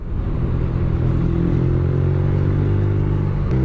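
A BMW R nine T 2017 motorcycle engine runs steadily nearby, hot on a very hot day, a constant low throbbing rumble without breaks.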